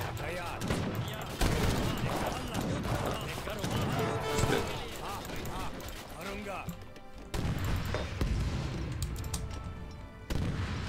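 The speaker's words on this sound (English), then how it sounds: "Oh, cannon." Cannon and gunfire boom repeatedly in a battle in the Age of Empires 3 strategy game, in dense overlapping volleys with crashes, continuing loudly throughout.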